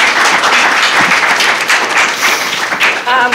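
An audience at a Newcastle public forum claps in a dense, steady burst of applause for a panel of speakers, loud and close throughout with a voice starting up at the very end.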